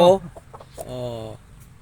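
A chicken clucks close by in a short burst, followed by a sustained fowl call, with a rooster nearby; brief and fairly loud.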